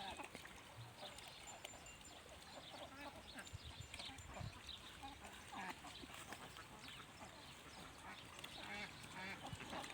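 A crowd of ducks being herded into a pen quacks continuously, a dense overlapping chorus close by with steady outdoor background noise.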